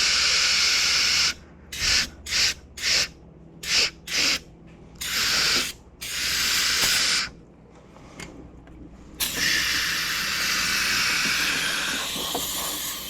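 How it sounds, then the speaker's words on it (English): An aerosol can of brake cleaner is sprayed on a 2004–2009 Cadillac SRX/CTS engine during VVT solenoid and seal replacement: a series of short, loud hissing bursts in quick rhythm, then longer sustained blasts, close up with no talk. "the last can of brake clean, which I'm just gonna shh, as you'll see, just shh, and a little shh"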